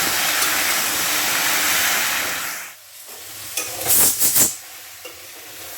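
Potato, onion stalks and beans fry in hot oil with a loud, steady sizzle that suddenly drops away, followed by a few close scraping stirs against the pan.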